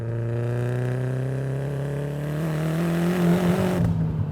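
A 450-horsepower second-generation Mazdaspeed 3 hatchback pulls hard through the revs, its engine note rising steadily in pitch for several seconds before dropping off at the shift, heard from inside the car.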